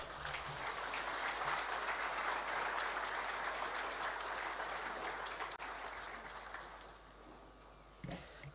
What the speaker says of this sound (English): I think we can do better with our round of applause once more